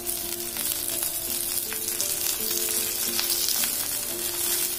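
Curry leaves crackle and sizzle steadily in hot oil in a pan with sautéed onion, a close, continuous frying hiss with scattered pops and no talking.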